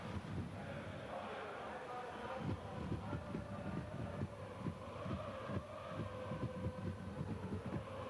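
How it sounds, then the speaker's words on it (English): A train rolls along rails as heard from inside a carriage, with a low steady rumble and repeated soft rhythmic clacks, faint, alongside talk. "Yep, poor Seb is on a 5-hour train."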